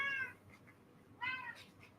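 A domestic cat meows twice, two short, clear, fairly close calls separated by a quiet pause, with no talking over them.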